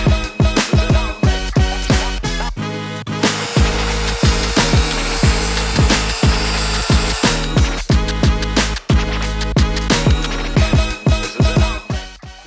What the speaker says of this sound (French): Pour ça, on doit recouper le bord à 45 degrés pour chaque côté de l'assemblage.